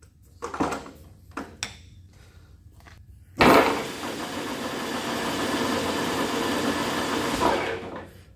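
An 80 mm milling cutter turning at about 800 RPM bites into welds. A few scattered knocks come first, then a sudden loud onset of steady, dense cutting noise that lasts several seconds before easing off.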